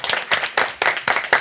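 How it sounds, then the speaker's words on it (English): Hands clap in a short, brisk burst of audience applause for mid-year graduates at a school board meeting, the claps close and crisp with no voices. "Yes, please applause."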